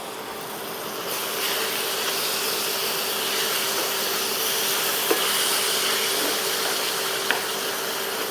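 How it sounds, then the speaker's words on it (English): Meat browning on a hot cast iron griddle set on an AMZCHEF dual induction cooktop gives a steady, close broadband sizzle and hiss that holds throughout, with a couple of faint clicks near the end. "as you can see, I'm already browning the meat"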